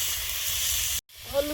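Cauliflower and potato with black cumin frying in hot oil, a steady close hiss and sizzle that cuts out briefly, then comes back with a short low scrape or voice-like sound on top.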